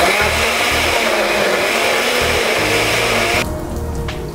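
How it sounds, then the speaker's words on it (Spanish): A kitchen blender grinds tomatoes, chiles and garlic with a loud, continuous whirring roar that cuts off abruptly near the end. "Vamos a moler nuestros tomates y nuestros chiles, su ajo"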